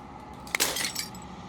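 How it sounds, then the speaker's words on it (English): Glass shatters once in the video game Slay The Princess, a sharp bright crash with a quick tinkling tail fading over a low ambient hum. "As the final fragment of glass shatters,"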